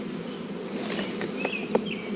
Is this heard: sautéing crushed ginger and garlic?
no